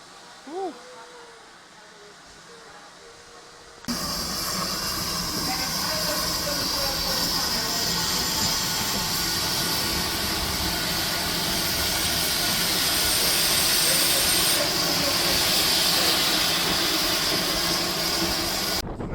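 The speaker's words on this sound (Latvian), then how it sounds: "Ar šito vilcieniņu mēs tagad izbrauksim." A small tourist train in Scotland sets off: after a quieter opening with brief voices, a loud, steady, hissing rumble starts suddenly and carries on close by, swelling slightly as it goes.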